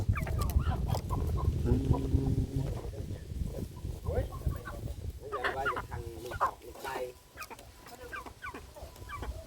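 Chickens clucking close by on a rural plot, the soft repeated calls mixed with people talking over them throughout.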